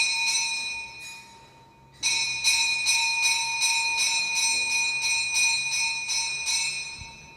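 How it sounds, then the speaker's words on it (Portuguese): Seminary bells ring in the early morning, a dense, bright metallic peal that pauses briefly, then resumes with steady repeated strikes and sustained ringing tones, fairly loud and with no voices. "Todos os dias nós acordamos com o despertar dos sinos, às 5 da manhã"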